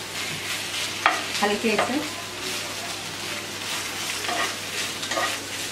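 Chicken fry cooking in a pan, a constant sizzle with a few louder scraping stirs near the start and middle, close up, with a brief soft spoken word.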